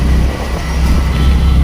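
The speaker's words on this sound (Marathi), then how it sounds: "मुंबई का ट्रॅफिक" Mumbai road traffic near Kalwa Naka, heard from inside an auto-rickshaw: a loud, continuous low engine and road rumble with a steady roar and no clear distinct events.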